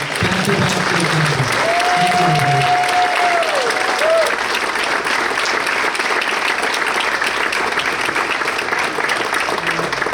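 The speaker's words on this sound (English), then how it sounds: "Give a round of applause for the 2023." Sustained applause from a crowd fills a lacrosse banquet hall, steady and dense throughout, with a brief whistle-like tone and a few voices early on.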